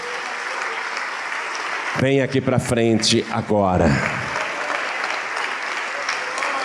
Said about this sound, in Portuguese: Vamos aplaudir mais, vamos aplaudir.